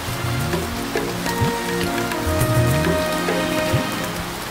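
Rain begins pattering on a mountain-top campsite near Chiang Mai, a close, crackling spatter with pork sizzling over a charcoal fire, and faint tonal sounds beneath.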